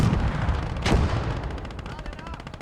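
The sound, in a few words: Panzer Nest gunfire in Gates of Hell video game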